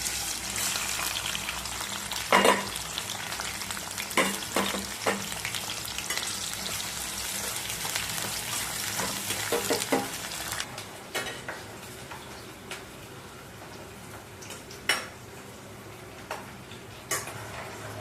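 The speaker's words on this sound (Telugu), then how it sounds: "బాండి పెట్టుకొని ఆయిల్ వేసుకొని ఆనియన్స్ వేసుకొని ఫ్రై చేసుకోవాలండి" Onions frying in oil in a deep pan (kadai) for biryani, a steady broadband sizzle with scattered clicks and occasional louder crackles, close and continuous, with no talking.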